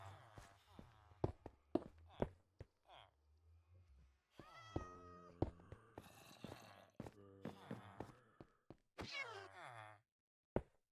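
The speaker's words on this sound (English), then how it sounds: "The villager's got a pet cat now." A pet cat in Minecraft meows repeatedly, several drawn-out meows spread across the stretch amid soft thuds, with a person talking in between.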